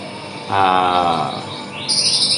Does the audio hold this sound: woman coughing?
no